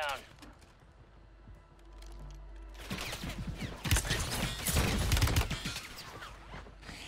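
Gunfire and shotgun blasts in Warzone 3 break out partway through, turning a quiet stretch into a dense run of rapid, close shots and impacts that grows louder toward the end.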